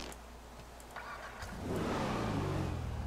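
The Dominator FX Interceptor, a car in a driving video game, starts out quiet with faint clicks, then its engine revs up into a loud, steady mid-pitched roar for the last half.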